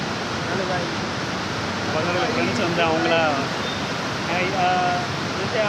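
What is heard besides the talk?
waterfall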